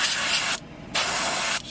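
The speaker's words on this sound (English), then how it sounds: "Just gonna spray that on nicely." An airbrush lays a yellow base coat onto a fishing lure in two close, steady hissing bursts separated by a short pause.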